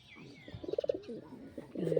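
Pet pigeon named Stefan calling with soft cooing notes in two bursts, close by, over faint background noise.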